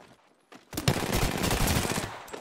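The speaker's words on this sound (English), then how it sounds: "I'm taking shots. Firing." Gunfire in the battle royale game Apex Legends: after a quiet moment, a sudden dense burst of rapid automatic shots, loud and close, continuing steadily to the end.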